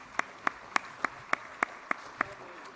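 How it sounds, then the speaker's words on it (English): Slow, evenly spaced single claps at a trust's annual general meeting, about nine sharp hand strikes in steady rhythm roughly three per second, each distinct against a quiet room. "everybody can give us a round of applause"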